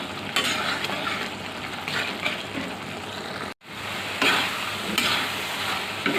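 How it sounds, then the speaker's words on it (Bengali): Brain (mogoj) frying in a pan, with a steady close sizzle and repeated scraping stirs, broken by one brief silent gap, and no talking. "মগজগুলো আমি অল্প নেড়ে ছেড়ে বুনো করে নিয়েছি"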